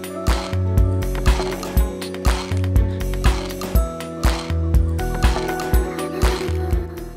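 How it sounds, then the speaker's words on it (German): Robotic dadamachines automat actuators mechanically strike acoustic objects, tapping out a steady, looping rhythm of sharp, close percussive knocks and clicks with a clattering, gear-like mechanical character, alone without talk. "It's a nice combination of robots playing acoustic instruments in a very special and unique way."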